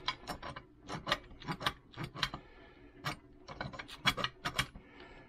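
An old 1935 miter gauge being adjusted, its mechanism catching in a rapid series of sharp metallic clicks and ratcheting ticks, close and loud with no talking.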